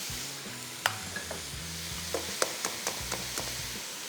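Two eggs are cracked into minced meat and stirred in a hot pan on the stove. A steady sizzle runs throughout, broken by sharp clicks and scrapes as a utensil strikes the pan.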